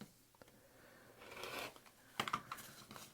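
Scissors snip through fabric lining while a hand-sewn phone pocket is being cut out, a few faint, close crisp cuts with light rustling of cloth in a quiet room.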